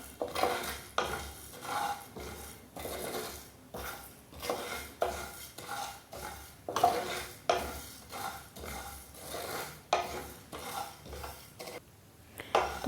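Whole spices and coriander dry-roast in a pan, heard as rhythmic scraping and rattling strokes of a spoon against metal, repeating roughly every second with a faint crackle underneath.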